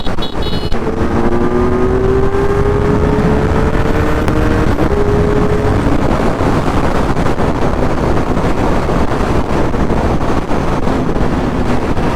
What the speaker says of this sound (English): He has a stock slip-on, but it's decatted, so it's pretty damn loud